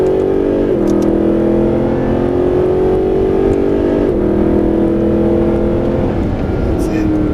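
A Mercedes SLS AMG accelerating on a track, its engine drone loud and sustained with rising and falling pitch as the throttle rolls on, heard up close.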